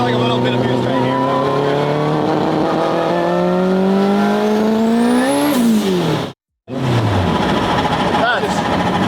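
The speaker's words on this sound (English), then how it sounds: "You can feel it start to haze the tires." A 1000HP all-wheel-drive car pulls hard under boost, its engine note climbing steadily in pitch with whine and tire hiss as the tires spin. A gear change briefly cuts the sound, then the roar returns, loud and close.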